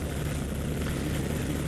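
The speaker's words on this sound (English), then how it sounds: "Let's do another fly out, because this is such a fun helicopter to fly." A US helicopter in the Vietnam-era game Heliborne flies steadily, its dense engine and rotor roar filling the whole stretch at constant loudness, close and with no voices.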